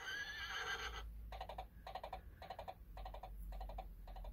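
Battery-powered Toy Story Bullseye plush rocking horse toy sounding its recorded electronic whinny, followed by a rhythmic clip-clop of hoofbeats played as short repeated bursts, quiet and tinny.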